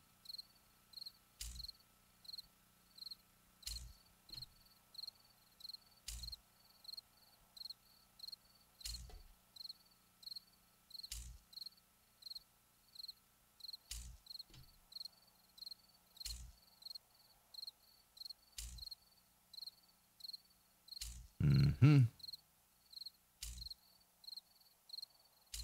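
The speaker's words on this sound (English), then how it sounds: "Sound of the crickets." Crickets chirp in the video game 7 Days to Die (Alpha 16), a steady, evenly spaced series of short trills repeating about every two seconds over a quiet background, with one louder brief thump near the end.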